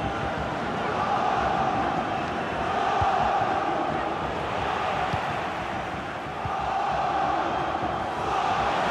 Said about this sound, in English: the crowd are driving their team on here